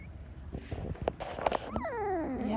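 Farm dogs whimper, yip and bark in short bursts, followed by a rising-then-falling whining howl, fairly close with outdoor background noise.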